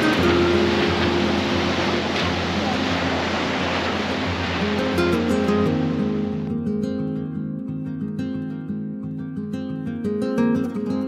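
Surf washing onto a beach at Cape Le Grand, a loud, steady broadband rush for the first several seconds that then thins out beneath a low, sustained hum.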